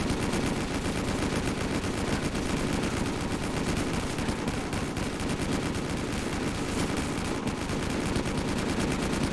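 Continuous rapid automatic gunfire on a zombies map in a video game, a dense unbroken rattle of shots at steady loudness throughout, close and without talk.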